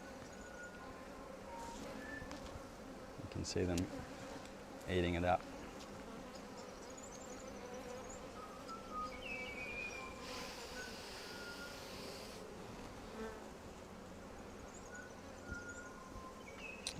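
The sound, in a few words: honey bees buzzing during a brood inspection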